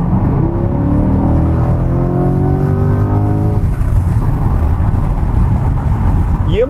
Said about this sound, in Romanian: E motor aspirat, însă din amintirile mele, un 5 litri aspirat pleacă mai repede.